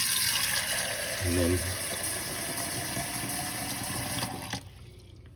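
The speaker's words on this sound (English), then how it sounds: "So I'm gonna fill this up with 16 ounces of water." Water poured into a metal camping cup to measure 16 ounces before boiling on a small backpacking stove, a steady trickling fill under brief speech that cuts off near the end.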